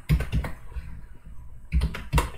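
The word sidebar is typed on a computer keyboard in two quick bursts of close, crisp key clicks separated by a short pause, with no talking.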